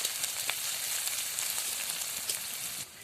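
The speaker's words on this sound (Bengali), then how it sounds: "পেঁয়াজ কুচি দিয়ে দেবো পেঁয়াজটাকে লাল লাল করে ভেজে নেবো" Steady hot-oil sizzle of chopped onion frying in mustard oil, with a few louder pops and crackles, close by, cutting off near the end.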